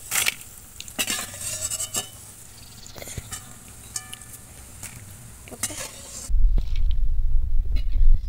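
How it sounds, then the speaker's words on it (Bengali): Banana flower fingers fry in hot oil with scattered clinks and scrapes of a utensil, then a steady louder sizzle swells in the last couple of seconds. "আমি এইভাবে সবগুলো ভেজে নেব।"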